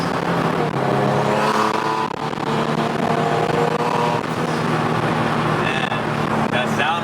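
Turbocharged Nissan 370Z engine heard from inside the car as the driver lets off the throttle, with a loud steady drone and turbo whistle and whoosh, while people talk over it.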